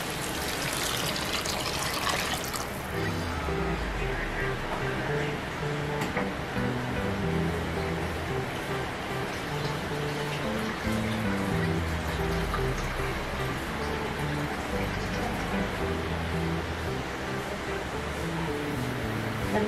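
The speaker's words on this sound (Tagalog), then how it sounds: "pwede na po natin ilagay yung chicken broth." Chicken broth pours steadily into a pot of Filipino sopas, a continuous liquid trickle running for the whole stretch beneath a voice that talks over it.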